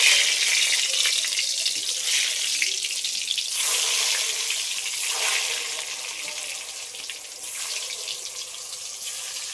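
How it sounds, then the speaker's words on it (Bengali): Potato pieces coated in salt and turmeric fry in hot oil, a bright, dense sizzle that swells and fades in waves, close and loud, with no talking. "এই আলুগুলো একটু লাল লাল করে ভেজে নেব।"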